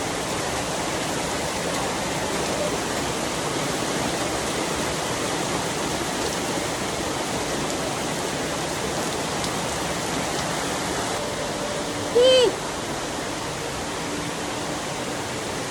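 Steady, dense rainfall hisses on a house without a break, a continuous heavy downpour; a brief faint tone sounds once near the end.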